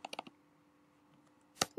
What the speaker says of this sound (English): So we're now going to click on that link, and that's going to open the KML file.